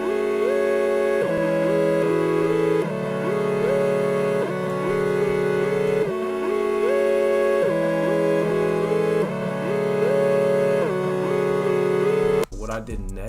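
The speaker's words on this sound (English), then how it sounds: "I then added another surge and selected this sound, LS Zito filter, YTO, pulse width. Turn it up, the portamento, it sound like this." Surge synth patch with a pulse-width oscillator and filter, portamento turned up in FL Studio, playing a sustained melodic line whose notes glide smoothly into one another, loud and continuous, ending with a brief burst of noise.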